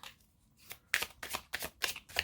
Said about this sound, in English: So I'm practicing with shuffling overhand.